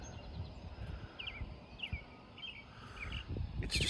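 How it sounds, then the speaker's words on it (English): Birds give faint, scattered chirps around seven in the morning at a quiet overnight spot outdoors, with several short calls spread over low background rustle. "Can you hear the birds?"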